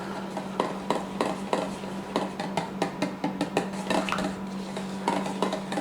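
Garlic powder being mixed into butter in a bowl, a utensil knocking and scraping against the bowl in quick, irregular close clinks and taps, with no talking.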